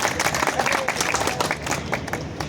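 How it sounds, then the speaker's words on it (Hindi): Audience of roadways depot staff applauding at a Dr. B. R. Ambedkar birth anniversary event, brisk crowded clapping with crisp individual claps, a faint murmur of voices underneath. "जोरदार तालियां होनी चाहिए"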